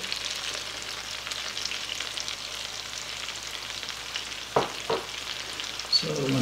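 A whole chopped onion fries in a skillet with a steady, moderate sizzle, broken near the end by a couple of sharp scrapes or taps of a utensil against the pan.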